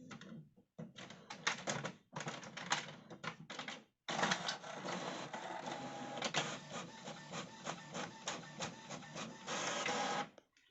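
An HP Envy 5546 Wi-Fi inkjet printer runs a print job sent from a ZX Spectrum 48K through a Multiprint interface: repeated rapid mechanical bursts of print-head travel and paper feed, with short pauses between, close and steady for about ten seconds.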